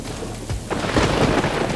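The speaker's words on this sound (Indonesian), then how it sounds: "Langit mendung dan rintik hujan mulai menyentuh permukaan air" Steady rain patters and hisses onto sea water off Mentawai, with a low rumble underneath, the pattering growing a little denser toward the end.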